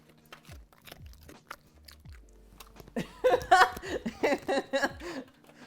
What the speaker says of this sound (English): These are doggo crunch sounds.